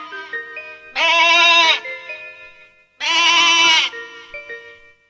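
A sheep bleats twice, two loud, sustained, quavering cries about two seconds apart, set against soft melodic music with no talking.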